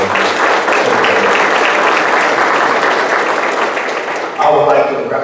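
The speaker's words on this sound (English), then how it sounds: "I would like you to join with me in a round of applause for Ken Trahan" Sustained applause from a luncheon club audience for Ken Trahan fills the room, loud and dense throughout, swelling slightly near the end.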